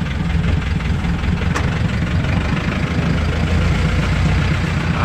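A 4x4 vehicle's engine rumbles steadily at low idle-like revs while heading off-road, a loud, continuous heavy drone with no talk over it.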